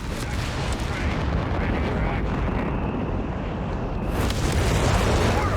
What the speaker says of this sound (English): Some kind of artillery barrage coming in here.